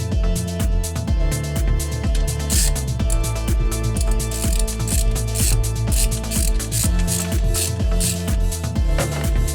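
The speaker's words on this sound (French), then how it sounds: "Serrez ensuite les écrous avec une douille de 12 mm." Ratchet with a 12 mm socket tightening the nuts on a thermostat housing cover of a Peugeot 205, a steady run of close, loud, rapid clicking strokes continuing throughout with no talk.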